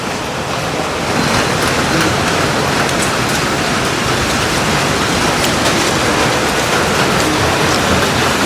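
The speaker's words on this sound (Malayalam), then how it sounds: "പ്രതീക്ഷിക്കാത്ത മഴ." Unexpected morning rain falls heavily and continuously, a broad close hiss that thickens after the first second and holds steady throughout, with no talking.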